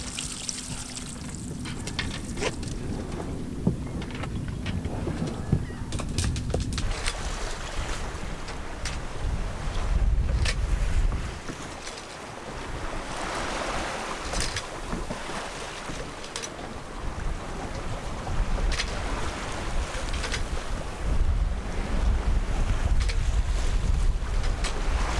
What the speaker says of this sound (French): On aime ça, faire de la voile.